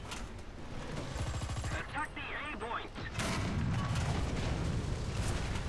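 Tank cannon fire in War Thunder: a loud burst of heavy gunfire and impacts, with more firing after a brief lull. Battle noise continues throughout, and someone speaks over it.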